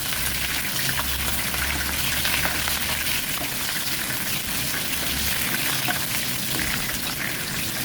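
Red chili peppers frying in hot oil in a pan while goat stew ingredients are prepared, giving a steady, close, dense sizzle with crackling throughout and no talking.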